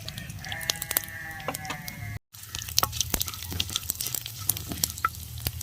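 Cumin, cinnamon, cloves and pepper sizzle steadily in hot oil while being sautéed, a dense crackling fry with scattered sharp pops, briefly cut to silence midway before resuming.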